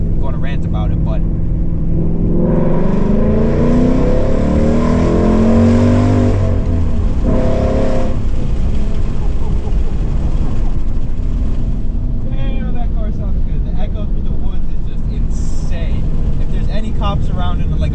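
A Ford Mustang's engine revs hard while driving, loud and close, with throttle swells climbing and falling and a voice talking over it at times.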